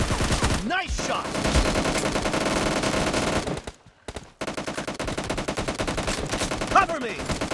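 Rapid bursts of gunfire from a shooter video game fill the clip, dense and loud, broken by a brief near-silent pause before the shooting resumes.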